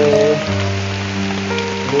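Heavy rain falls on a surface in a dense, loud, steady hiss close by, with a low constant hum underneath and no voices.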